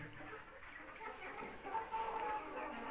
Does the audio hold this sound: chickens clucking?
yes